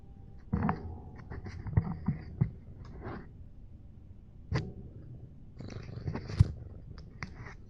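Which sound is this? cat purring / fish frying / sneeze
cat purring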